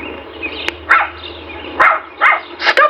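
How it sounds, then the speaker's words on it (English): A small injured dog, shot with pellets in its legs and hiding in a countryside hedge, gives four short, sharp barks spaced irregularly over a low steady hum, fairly close by. "Stop a minute, that's a dog."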